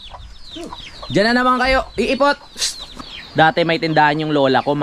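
Chickens and chicks clucking and calling near a home, with several close, bright cackling calls in quick bursts mixed with a person talking over them.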